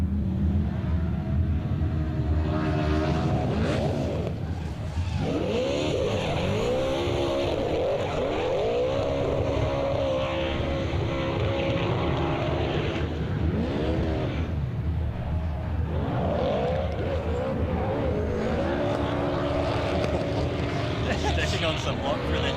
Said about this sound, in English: I kind of just enjoy listening to this car sing, Kenny